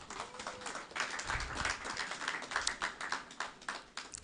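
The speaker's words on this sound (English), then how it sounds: "Please, you can clap" An audience claps at a youth proclamation event, scattered and uneven hand clapping heard at moderate distance, with irregular bursts rather than a steady roar.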